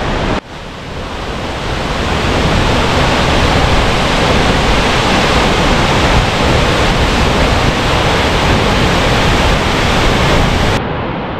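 A waterfall seen from its lookout roars as a loud, constant broadband rush, steady and close, with wind buffeting the microphone and no voices.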